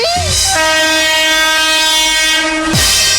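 A train pulls into Lakshmiganj station with a loud, sustained horn blast lasting about two seconds over the rumble of the rail cars, with no talking.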